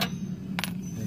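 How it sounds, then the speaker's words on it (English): A spindle nut coming off a wheel hub, with two short metallic clinks, one at the start and a sharper one just after the midpoint, over a low steady hum. "Then you're going to take your spindle nut off."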